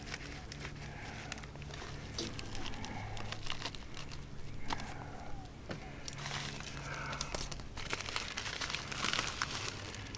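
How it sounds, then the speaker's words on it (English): Scissors snip and tear through crinkly plastic packaging holding a new fuel pump, producing a steady stream of close crumpling, rustling and crackling with occasional sharper cuts. "Gonna have to resort to using scissors."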